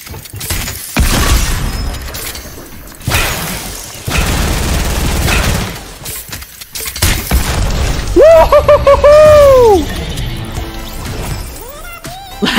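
Sharp, heavy blasts fire in bursts from a mythic charge shotgun in a video game. They are loud and close, mixed with shattering and explosion effects, and bright game chimes rise near the end.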